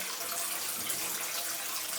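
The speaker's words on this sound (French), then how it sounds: "ça coule depuis je sais pas combien de temps là." An open tap left running in an abandoned house, a steady unbroken hiss and splash of water, even and moderately loud throughout with no talking.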